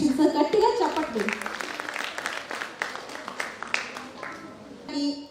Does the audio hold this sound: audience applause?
yes